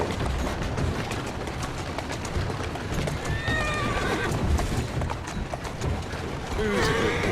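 A horse in the Assassin's Creed Syndicate video game whinnies loudly over a steady patter of clip-clopping hooves, with a second neigh near the end.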